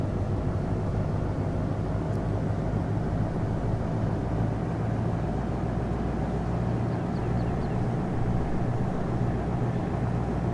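A steady, loud truck engine drone in Farming Simulator 2017 rumbles throughout with no break, a low vehicle hum holding constant.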